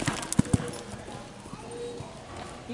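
A horse in a county show-jumping ring strikes out a few sharp hoofbeats early on, then settles into softer muffled footfalls, with a rider's voice giving instructions in the background.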